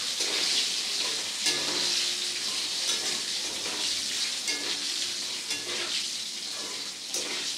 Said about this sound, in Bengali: এবারে ফোড়নটাকে একটু খুব ভালো করে নেড়ে চেড়ে ভেজে নেব